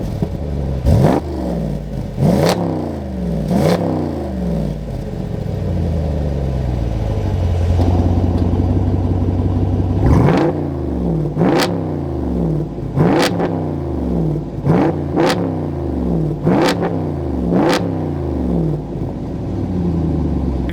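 An engine breathing through an AWE aftermarket exhaust system, revved repeatedly: loud, close blips and longer sustained pulls rising and falling in a series, with one extended rev midway and quick snaps afterward.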